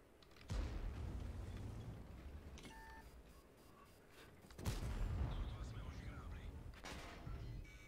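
Two heavy booming tank cannon shots from a game, separated by a few seconds, over a constant rumbling engine drone with brief electronic beeps in between.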